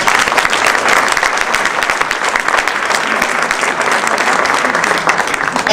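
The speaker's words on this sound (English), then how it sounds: "Let's give them a round of applause." An audience at a Maryland Women's Hall of Fame ceremony applauds in steady, loud, close clapping that holds for several seconds without letup.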